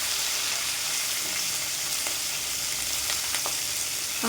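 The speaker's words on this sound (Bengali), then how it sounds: "এখানে আমি মাছ ভাজি করে নিচ্ছি, ইলিশ মাছ।" Hilsa fish frying in a pan of oil, a loud, steady hiss and crackle that fills the whole stretch, with a few faint clinks near the end.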